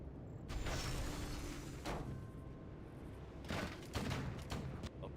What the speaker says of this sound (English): lots of firepower from those rifles and mortars